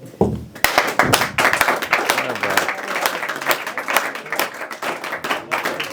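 A crowd at an open mic comedy and poetry night claps steadily and enthusiastically, a dense, close patter of many hands lasting the whole stretch with no voices.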